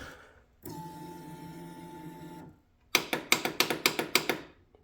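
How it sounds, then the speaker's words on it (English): A Polaris Sportsman ATV with a dead starter. A steady electrical whine is followed by about ten rapid, sharp mechanical clicks from the starter solenoid at close range, with no talk. "you can hear the solenoid's working perfectly, but the starter's dead"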